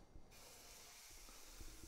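Salmon fillet sizzling as it is laid into a hot pan, a steady broad hiss and spatter that starts abruptly and continues evenly close by, with no talk.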